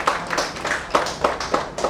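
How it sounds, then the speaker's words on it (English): Audience at a fashion show workshop in Hyderabad clapping for a guest, a moderate burst of scattered handclaps in uneven rhythm, fairly close and alone. "Let's give him a big applause."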